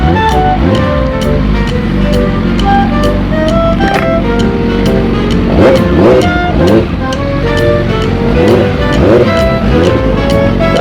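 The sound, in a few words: traffic jam noise heard riding Yamaha R6 motorbike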